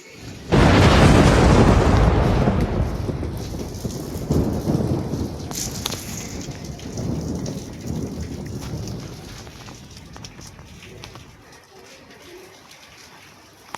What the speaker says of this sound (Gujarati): જો ચાલુ છે ને વરસાદ.